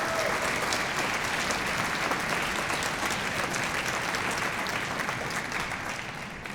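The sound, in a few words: audience applause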